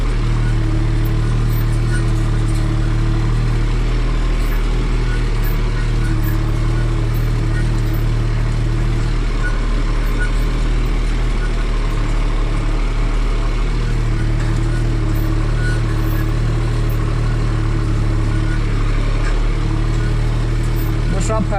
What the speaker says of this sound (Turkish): demir küçük olsa bile traktör yürümeye devam ediyor, tıkanmıyor